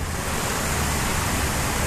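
Sewage-polluted water overflows and runs down toward a stream, a steady, dense rush of flowing water that holds loud and continuous throughout with no talking over it.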